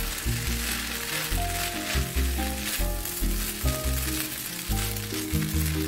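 Seafood fried rice stir-fried with bakmi goreng seasoning sizzles loudly in a hot pan, with a steady crackling fry broken by rhythmic scraping and stirring strokes over a low background tone.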